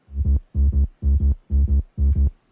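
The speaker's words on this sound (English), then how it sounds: "All this is just a basic saw wave with a little bit of detune," Heavily boosted house-drop sub bass made from a basic, slightly detuned saw wave, pumping in five paired throbbing bursts with short gaps between them, moderately loud and up close with nothing else playing.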